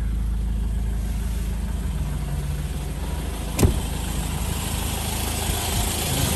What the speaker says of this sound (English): Starts nicely and idles correctly.